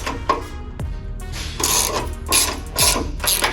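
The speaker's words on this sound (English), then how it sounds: "Now we're gonna go ahead and start removing the bolts on the other side." A ratchet clicks as bolts come off the stock front bumper of a Ford Bronco, with several close, loud bursts of rapid mechanical clicking separated by brief pauses.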